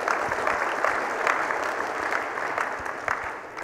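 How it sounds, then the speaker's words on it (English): Audience at the ElixirConf 2019 evening keynote breaking into applause, a sustained wash of many hands clapping at moderate level, steady throughout with slight swells, no speech over it. "is probably what you're clapping for."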